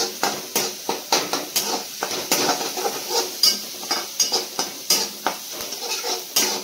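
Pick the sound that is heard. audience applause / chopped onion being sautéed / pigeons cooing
chopped onion being sautéed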